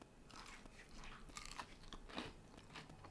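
Battered black drummer fish crunches crisply as it is bitten and chewed near the mic, a quiet run of brittle crackles with no talking.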